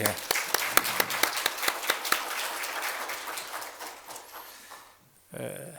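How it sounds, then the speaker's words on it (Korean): A church congregation claps together during worship, a loose rhythmic run of sharp hand claps that is strongest at first and then thins and fades, with voices in the room. "우리 찬양 드릴 때에 크게 박수를 하나님께 영광 돌리겠습니다"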